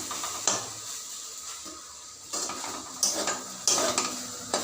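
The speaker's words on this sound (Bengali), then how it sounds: "কড়াই তেল দিয়ে তারপর পেঁয়াজ দিয়ে পাট শাকটা দিয়ে দিতে হবে, নাড়তে হবে" Sticky jute leaves stirred with onion in oil in a wok, a soft sizzle with repeated bursts of metal spatula scraping against the pan, close and without voices.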